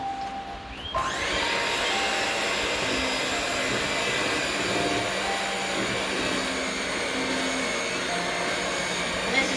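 A mixer blends dry ingredients into thick zucchini bread batter, starting after a brief quiet moment and then whirring steadily and loudly without a break.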